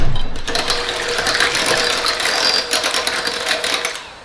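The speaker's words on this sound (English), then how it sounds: "I'm just whisking those eggs and separating them" Eggs whisked briskly in a bowl for a cinnamon roll cake, a fast, continuous rattling clatter of metal against the bowl, fairly loud and close, with no talking.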